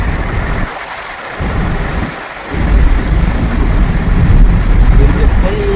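Heavy rain roars steadily over flooded Chennai streets with a deep rumble underneath, growing louder toward the end, with no voices standing out.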